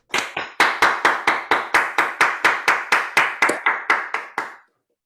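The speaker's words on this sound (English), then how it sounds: "Let's give them a round of applause" A single person claps steadily about twenty times, crisp and close, with nothing else in the background. The claps come as part of an online scholarship presentation.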